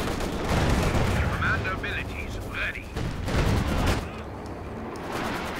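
Howitzer artillery fire in the Company of Heroes 2 strategy game, heard as several dense booming blasts and bursts of battle noise, loud and continuous throughout, with a commentator talking over it.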